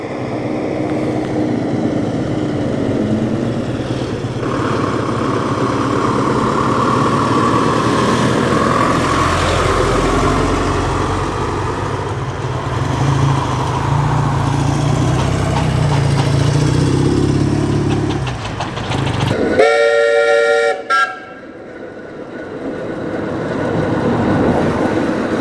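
Foden steam wagon pulling out at a Boxing Day steam rally, a steady low chuffing engine rumble that grows louder as it approaches, with a sharp whistle-like toot near the end and no talk.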